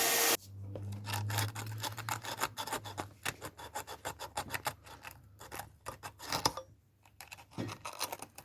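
Scraping and rasping at the number plate bulb holder contacts of a Rover 75, a rapid series of short, close, dry scratching strokes in uneven bursts, with a low hum beneath for the first few seconds.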